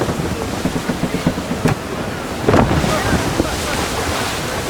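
Sailing ship at sea under full sail in Assassin's Creed 3: a constant roar of wind and rushing waves with a surge of surf and spray midway, loud and close.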